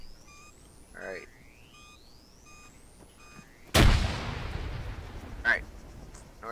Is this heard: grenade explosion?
yes